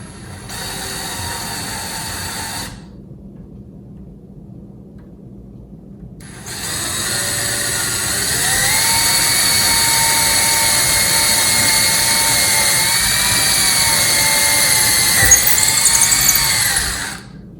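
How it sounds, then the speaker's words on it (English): A power drill whines in short bursts, then drills a second hole for a cabinet handle with a sustained high whine that rises and dips under load, close and loud. "I'm going to drill my second hole."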